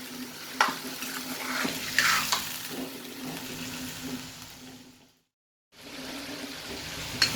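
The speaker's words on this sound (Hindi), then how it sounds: "इतनी देर हमने अपनी इस चिकन को फ्राई करना है।" Chicken sizzles in a hot pan for restaurant-style Shinwari chicken karahi, a steady loud frying hiss with occasional stirring clatters and a brief drop to silence before the sizzle resumes.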